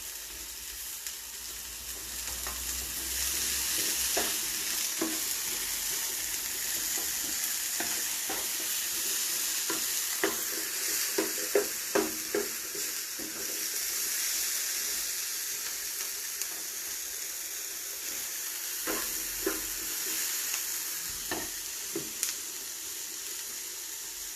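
Onion, peppers and garlic sautéing in a pan for vegetarian paella, a steady close sizzle broken by scattered clacks and scrapes of a spoon stirring, with no talk.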